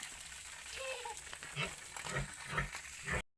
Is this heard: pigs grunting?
yes